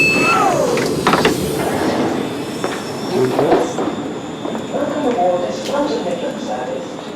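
Train wheels squeal and screech as a train brakes into a station, with clattering and hissing over a steady rumble and voices nearby.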